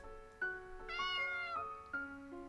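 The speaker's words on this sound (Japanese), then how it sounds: "野良猫かな。" Stray cat meowing in a Japanese video game, three clear, close, tonal meows in a row, the middle one longer and higher, over a quiet background.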